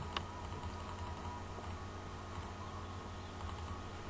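Typing on a computer keyboard, quick irregular clusters of light key clicks over a low background hum, close and quiet, with no talk.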